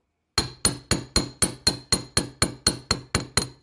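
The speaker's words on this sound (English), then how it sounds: "now I'm going to hammer it with the ball" Metal wire being flattened into a paddle shape with a ball hammer for beaded earrings, struck in a steady series of about twelve sharp, close, ringing taps at an even pace, with no talking.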